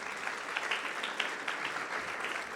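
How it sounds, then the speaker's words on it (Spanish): A church congregation claps for visiting guests during a service, a steady, fairly faint wash of applause from many hands with no talking over it. "¿Por qué no levantamos un aplauso para ellos que nos están acompañando?"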